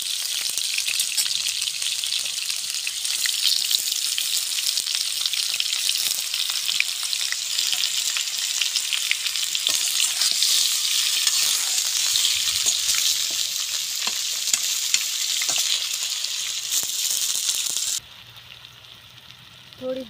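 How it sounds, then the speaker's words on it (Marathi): Pieces of jackfruit fry in hot oil with a dense, steady sizzle and crackle for most of the stretch, close and loud. Near the end the sizzle cuts off abruptly, leaving quiet room sound and a brief clink. "फणस तेलामध्ये तळून घ्यायचं आहे"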